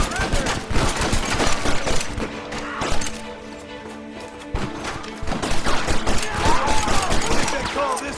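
Rapid gunfire in the Red Dead Redemption video game, dense overlapping shots and rifle cracks with crashes, loud and nearly continuous, over game music and shouting voices.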